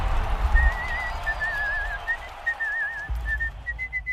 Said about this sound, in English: That whistle at the end is fantastic.